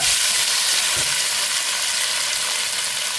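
Onions frying in hot oil for dosa in a home kitchen, a loud, close, steady sizzle and hiss that runs without a break and stands alone with no talk.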